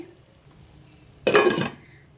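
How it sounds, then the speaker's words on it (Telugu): A lid is set onto a pan of brinjal curry, giving one short metallic clatter and clink after a quiet stretch with a faint steady hiss. "కాసేపు మూత పెట్టేస్తా అండి"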